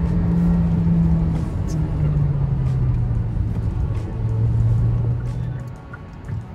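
A Kia Seltos GT Line accelerates in sport mode as its revs climb, producing a sustained engine drone with shifting pitch, heard from inside the car with a voice talking over it.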